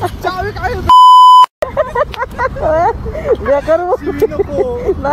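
A Bajaj Pulsar 125 motorcycle gives one loud, steady electronic beep lasting about half a second, with people talking before and after it.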